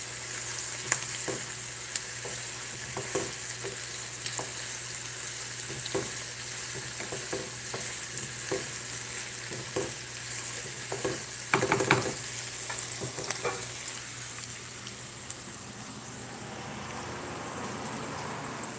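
Onions fry in a pan, a steady close sizzle broken by repeated scraping stirs and utensil clicks, with a brief louder clatter partway through before the sizzle settles alone.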